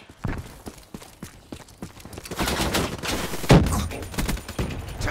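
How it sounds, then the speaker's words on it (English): The Man O' War assault rifle in Black Ops 3 multiplayer fires in sharp bursts, with a sparse run of single shots followed by a denser, louder stretch of rapid gunfire and battle noise. "I'm really liking this Man O' War. It's a really powerful assault rifle. Fires a little bit slow, but it packs a really big punch."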